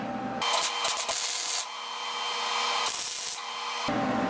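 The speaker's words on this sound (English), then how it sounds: "We're going to do just a little bit of welding here to weld those two washers together and make it a stronger bond." Two metal washers are tack welded together for a beer tote build. Harsh, crackling hiss comes in two close, loud bursts, separated by a quieter gap.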